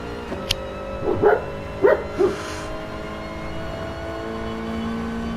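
A dog barks a few times, a short yip followed by three close, mid-loud woofs about a second apart, over the steady engine drone of a Gran Turismo Sport race.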